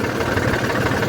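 A Swaraj 744 or Eicher 380 tractor engine runs in a brief, loud, steady diesel chug with a throbbing vibration and no talking.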